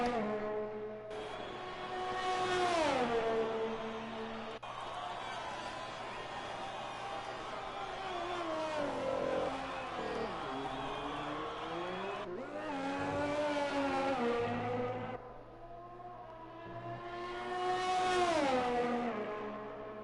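A Formula 1 car engine screams through a flying lap at Bahrain in a racing video game, its pitch climbing and dropping repeatedly as gears shift and the car brakes for corners, loud and continuous throughout.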